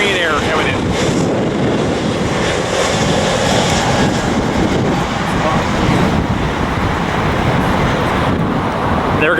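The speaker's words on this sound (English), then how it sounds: "Another Korean Air coming in." A Korean Air airliner landing at LAX, its engines a loud sustained roar with heavy wind buffeting the microphone, steady throughout as the jet passes nearby.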